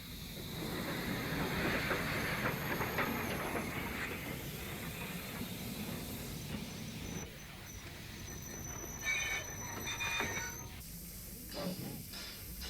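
A steam train on the Kent and East Sussex Railway rumbles past with steady rolling noise, hissing and a thin metallic wheel squeal, loud and close throughout.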